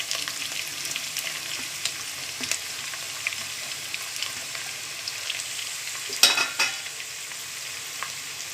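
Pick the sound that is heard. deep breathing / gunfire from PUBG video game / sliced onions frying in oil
sliced onions frying in oil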